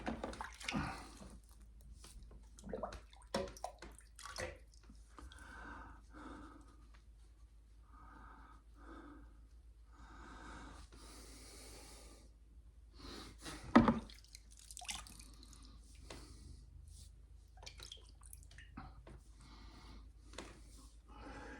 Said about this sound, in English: Let's give him a rinse and a re-wipe. There we go. Get that Dawn soap water out of there.